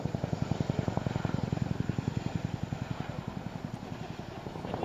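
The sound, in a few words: Chinook helicopter at airshow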